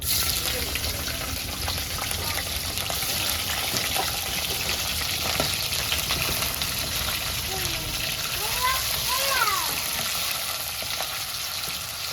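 Small fish sizzle and crackle steadily in hot oil, a loud, continuous frying hiss with occasional bubbling pops and voices talking faintly underneath.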